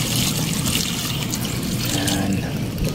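Water and Ariel detergent being poured and mixed together, a steady close liquid rush filling the whole stretch, tied to cleaning an Isuzu vehicle's exhaust area.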